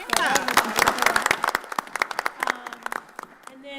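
Scattered clapping at a board of education meeting, a handful of sharp distinct claps in a loose rhythm mixed with voices talking over them, thinning out toward the end.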